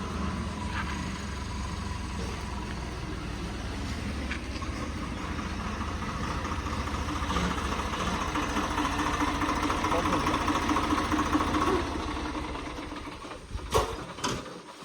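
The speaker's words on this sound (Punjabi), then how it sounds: "ਲੋ ਟਰੈਕਟਰ ਆ ਗਿਆ" A tractor engine idles steadily nearby at a building site, its low mechanical rumble running throughout and swelling slightly toward the end before a few sharp knocks.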